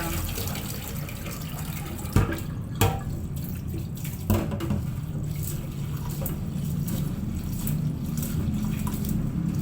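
Rice being washed by hand in water, with steady splashing and swishing, a few sharper knocks and sloshes near the start, and no voices.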